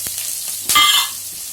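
Chopped onion drops into hot oil seasoned with asafoetida, setting off a sudden bright burst of sizzling that swells for a moment and then eases to a quieter hiss.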